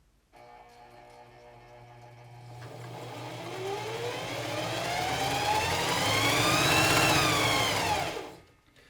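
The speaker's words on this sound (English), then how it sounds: "You get that grunting sound, right?" A Singer Heavy Duty 4411 sewing machine runs slowly and then speeds up, a low whirring motor with a rough grunting tone that rises in pitch and cuts off near the end, close and alone.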